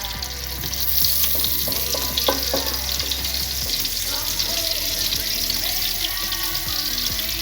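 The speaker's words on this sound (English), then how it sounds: "I'm gonna add in my garlic" Garlic, about two cloves, sizzles in a hot pan for a mashed potato and beef dish, a steady close frying hiss with a few stirring clinks and no talk.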